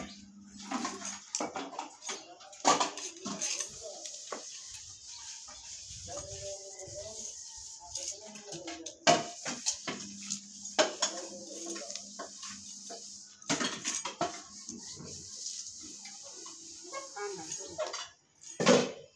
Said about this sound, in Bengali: চিংড়ি মাছ কাটতে বেশি একটা সময় লাগবে না, তাড়াতাড়ি কাটা শেষ হয়ে যাবে।